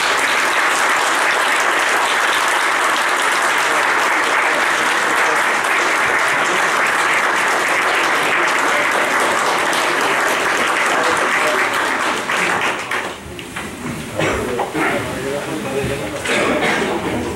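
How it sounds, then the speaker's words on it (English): Loud, dense applause from an audience at a county fiscal court meeting in Kentucky, sustained for a long stretch before tapering off as voices and scattered claps take over. "Big round of applause."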